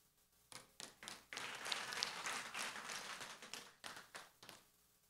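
A church congregation at a Sunday service claps, starting with a few separate claps that swell into fuller applause, then trail off into scattered claps, heard faint and somewhat distant.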